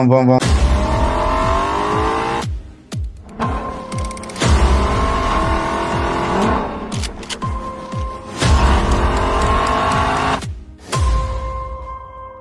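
Car driving, heard in bursts of revving engine with gear-shift sweeps and brief tire squeal, cut into several segments separated by short gaps, fairly loud and close.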